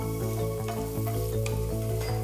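Chillies sizzle and crackle steadily in hot oil, a loud continuous frying hiss with a low hum underneath.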